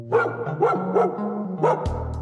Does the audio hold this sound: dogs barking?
yes